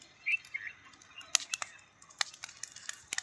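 Small black sparrows chirping in a sugarcane field, a few faint thin tweets early, then sharp scattered clicks and brief rustles against quiet outdoor air.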